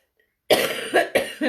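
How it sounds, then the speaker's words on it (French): A person coughs three times in quick succession, close to the microphone, after a moment of silence. "Pardon pour toute cette toux aujourd'hui."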